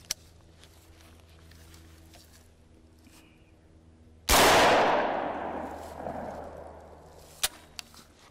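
A single loud, close .300 AAC Blackout shot from a SIG MCX Virtus rifle on a range, with a long decaying echo after it, a few quiet clicks before it and a sharp click after.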